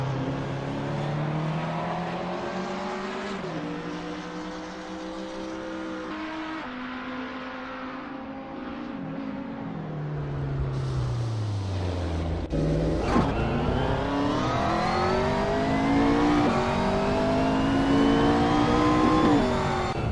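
Several McLaren 650 GT3 race cars in an Assetto Corsa night race at Barcelona, loud engines revving and shifting through gears, pitch climbing and dropping with a car passing close, continuous with no talk.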